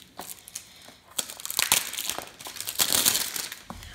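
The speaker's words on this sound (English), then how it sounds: "This plastic wrap off here." Plastic wrap is torn and peeled off a Nintendo Switch game case for ARMS, giving close, crinkly crackles and sharp rips in uneven bursts that grow busier toward the end.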